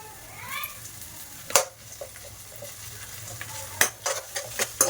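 Ginger garlic paste sizzles softly in a pan for mutton bone soup and boti fry, with a spoon scraping and clinking against the pan in several sharp strokes over a low steady fry.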